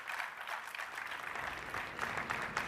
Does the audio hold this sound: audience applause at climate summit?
yes